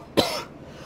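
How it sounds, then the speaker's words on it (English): One short, sharp cough from a sick person, close and loud, then quiet. "Sorry about all the coughing as well."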